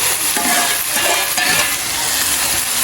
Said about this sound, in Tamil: பச்சை மிளகாய், கறி மிளகாய், மற்றது வெங்காயம் எல்லாம் வதங்குது.